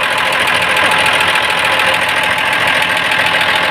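A Mitsubishi 6D24 diesel engine generator runs just after starting, a loud, constant, throbbing rumble with a dense mechanical clatter close by.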